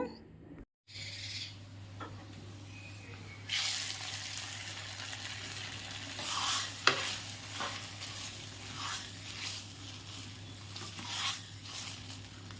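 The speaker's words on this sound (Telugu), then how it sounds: "ఇక దీనికి పోపు అయితే వేస్తున్నాను" Seasoning tempering being added to okra sour curry and stirred in, a brief dropout followed by a louder hiss and crackle with scattered stirring clicks, close up with no talk.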